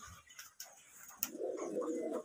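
Low, rolling coos from Giribaz pigeons fill a loft in Rajshahi, starting sparse and swelling into a close, continuous murmur of several birds.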